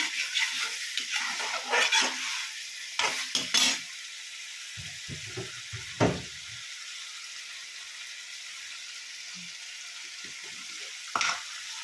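Bitter gourd fries in oil with a crackling sizzle, interrupted by bursts of stirring and scraping of a spoon against the pan, then settles into a quieter, steady hiss.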